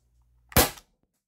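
A single sharp, loud report from an Umarex HDP 50 Compact CO2 pistol firing a steel ball bearing, close up, a short crack with quick decay in otherwise quiet surroundings.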